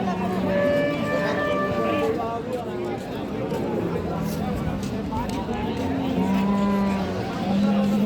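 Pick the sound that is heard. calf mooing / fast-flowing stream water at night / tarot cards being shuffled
calf mooing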